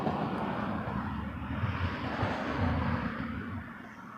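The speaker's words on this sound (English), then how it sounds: "Embraer 175 coming in." An Embraer 175 jet approaching to land at Toronto Pearson Airport gives a steady, fairly distant engine rumble and whine that holds at an even level and fades slightly at the end, with no talking.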